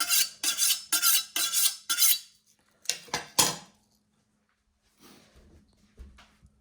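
A chef's knife honed on a sharpening steel: a quick run of bright metallic scraping strokes, five or six in steady rhythm, then a pause and a few more strokes, close and clear with faint quiet scrapes at the end.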